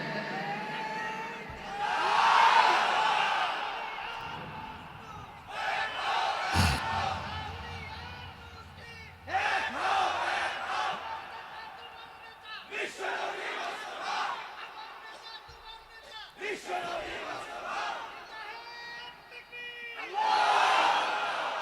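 A crowd at a Bangladeshi religious gathering chants takbir together in several loud collective bursts, each swelling and fading, separated by quieter stretches with a leader's voice calling between them.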